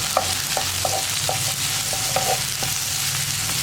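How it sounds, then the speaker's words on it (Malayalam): Onions sautéing with a little salt in a pan, a continuous sizzle of frying with repeated scraping stirs of a spatula at a steady rhythm, close and clear with no talk. "ഈ ഉള്ളി ഒന്ന് നന്നായിട്ട് വഴറ്റിയെടുക്കുക."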